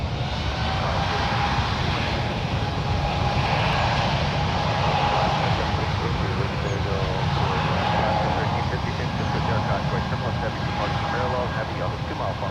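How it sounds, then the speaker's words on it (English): An Airbus A220-300 jet airliner on flight 105 to Louisville at San Francisco International Airport produces a continuous loud engine roar with a faint whine, steady throughout, while radio voices talk over it. "flight 105 headed to Louisville in this Airbus A220-300"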